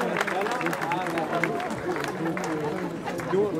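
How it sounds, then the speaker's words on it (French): An outdoor audience applauds after a demonstration at a Bastille Day brass band performance in Dol de Bretagne, with continuous clapping mixed with crowd chatter and nearby voices. "On peut les applaudir ?"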